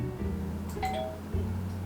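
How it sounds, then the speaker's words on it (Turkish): A doorbell rings once with a bright two-tone chime over a low steady hum, fairly close and clear. "Zili çalıyor."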